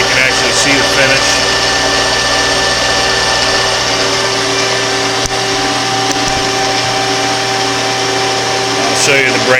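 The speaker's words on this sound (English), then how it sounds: "I'm just going to go ahead and let it finish out this whole cut" A Grizzly G0554 14x40 metal lathe, wired for 220-volt single phase, takes a cut and gives off a loud, steady mechanical whir with a constant hum that holds unbroken throughout.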